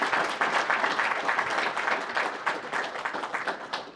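Applause for a guest at a sport management summit, steady dense clapping from the audience filling the room throughout, fairly loud and continuous.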